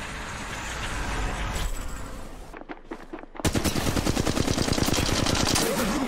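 Rapid automatic gunfire in the mobile battle royale game Apex Legends, bursts at first and then a dense, loud, sustained stream of shots close up, with no talking.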